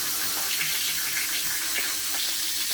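Water pours steadily into a bucket of drywall mud, a continuous splashing hiss with no talk over it.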